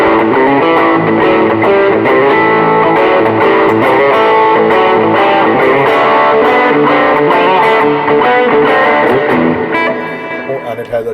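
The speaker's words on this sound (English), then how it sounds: "I'm just going to run through the different amp tones on the bridge position" An electric guitar played on the bridge pickup through a Yamaha THR10C desktop practice amp, a continuous loud run of chords and notes with a slightly distorted tone, trailing off at the end.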